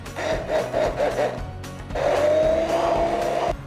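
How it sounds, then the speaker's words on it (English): A blender runs on a fresh berry vinaigrette in two bursts, first a short, uneven whir, then after a brief pause a longer, steadier high whine that cuts off at the end. "All you gotta do is blend."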